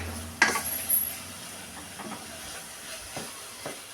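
Apples caramelizing in a pan with sugar, butter and starch for an apple tart: a soft, steady sizzling hiss, with a few light clinks of a utensil against the pan near the start.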